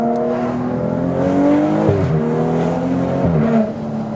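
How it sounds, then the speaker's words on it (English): A BMW M235i engine idles with a deep, uneven exhaust burble, rising briefly in pitch before settling back down, loud and close. "There's some nice little burble."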